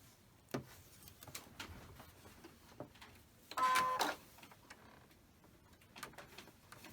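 A home sewing machine stitching a quilt block runs in one short, close, whirring burst of under a second amid scattered light handling clicks and taps in a quiet room.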